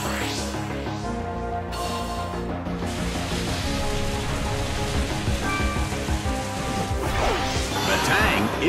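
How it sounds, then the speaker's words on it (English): Pouring rain on the Colosseum battlefield in Pokémon Battle Revolution, a steady dense wash of rainfall mixed with game music, splashing hits and whooshing battle effects throughout. "It's pouring rain in the Colosseum."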